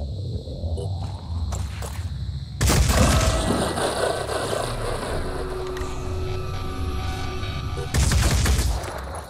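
Weapon fire in Phoenix Point, loud sharp blasts at the start, around three seconds and near eight seconds, each followed by a lingering rumbling tail, with no talk over it.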